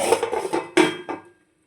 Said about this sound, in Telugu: టూ మినిట్స్ మూత పెట్టేసుకుందాం